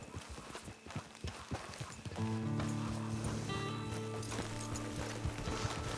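Horse hooves clip-clop steadily on the ground in Red Dead Online, a rhythmic series of close thuds that continue under a swelling bed of sustained music tones.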